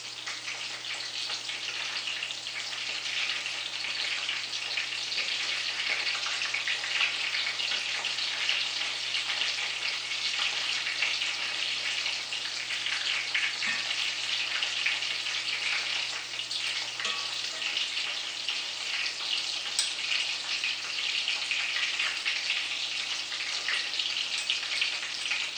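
Fish balls deep-frying in hot oil at around 325 to 350 degrees, a dense, continuous bubbling sizzle, loud and close and unbroken for the whole stretch.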